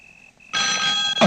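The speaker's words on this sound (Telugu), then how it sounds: "ఈ టైంలో ఫోన్ మోగుతుందంటే" A telephone rings loudly in a comedy movie scene, a bright electronic ring bursting in after a short stretch of near silence and continuing steadily, with a clunk at the end.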